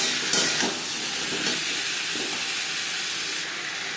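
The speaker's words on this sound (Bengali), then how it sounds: "লবণ হলুদ দিয়ে তিন চার মিনিট আলু ভেজে নেবে" Potatoes with salt and turmeric fry in hot oil, a loud, dense, steady sizzle and hiss close up, with a few soft stirring knocks early on and the sizzle easing slightly at the end.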